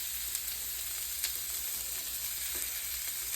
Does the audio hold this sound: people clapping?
no